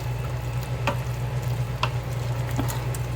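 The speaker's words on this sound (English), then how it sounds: "We're just gonna let that simmer a few more minutes." Hawaiian BBQ sauce simmering in a Ninja Foodi SmartLid pot gives a steady, soft bubbling sizzle close by, with a few brief sharper pops and clicks breaking through the even hiss.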